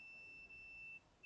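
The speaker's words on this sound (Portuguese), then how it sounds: "Bipou." A multimeter continuity test gives a steady high electronic beep, faint and close, held on and briefly cutting out twice before sounding again.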